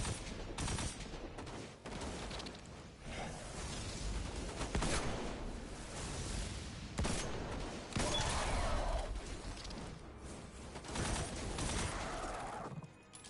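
Dense, continuous gunfire from Destiny 2 gameplay, with repeated shots and crashes blending into a loud, busy barrage that runs the whole stretch with little pause.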